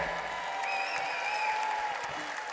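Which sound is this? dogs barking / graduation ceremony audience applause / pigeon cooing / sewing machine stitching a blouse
graduation ceremony audience applause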